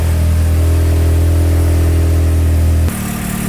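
A Corvette drift car engine runs on a Mega Squirt ECU, loud steady idle with a deep even drone close by, the tone dropping abruptly near the end as the revs change.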